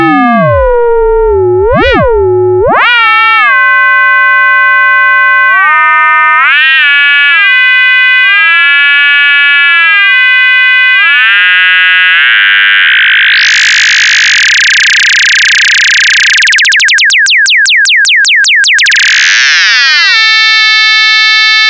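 Guitar pedals pushed through a synth-like filter as it is tweaked, producing loud sustained electronic tones that sweep, warble and chirp, ending in a bright, shrill whine with rapid pulsing, with no talk.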